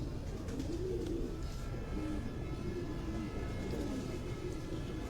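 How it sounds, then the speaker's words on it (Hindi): A pair of pigeons gifted from Oman coos in repeated soft, throaty phrases over a steady low background hum, with no talking. "ये ओमान से जोड़ा गिफ्ट आया था, कबूतर आए थे"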